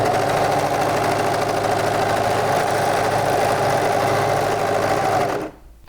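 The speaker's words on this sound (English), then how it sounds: "go ahead and sew the short side of your waistband" A sewing machine runs continuously, stitching the short side of a fabric waistband with a rapid, even mechanical whir before stopping abruptly near the end.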